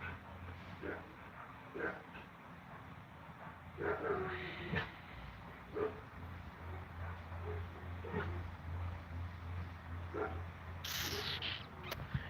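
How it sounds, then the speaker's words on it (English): Dogs vocalizing indoors, with intermittent low growls, snorts and short barks scattered over a quiet background hum, faint and somewhat distant. "those are just my dogs"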